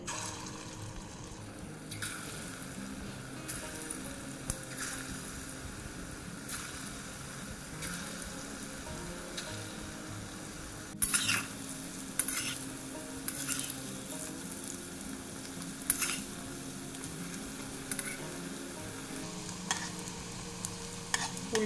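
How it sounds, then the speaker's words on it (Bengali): Moong dal fritters sizzle in hot mustard oil in a kadai, a steady frying crackle with intermittent sharper clinks and scrapes as they are turned over. "উল্টে পাল্টে একটু হালকা করে ভেজে নিতে হবে"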